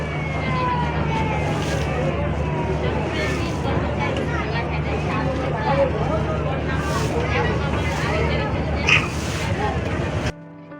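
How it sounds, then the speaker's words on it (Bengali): Passenger launch arriving at Ilisha ghat in Bhola: constant engine and water noise with wind buffeting, a long horn-like tone and mixed voices in the background. "লঞ্চ ইলিশা ঘাটে আসলো মাত্র"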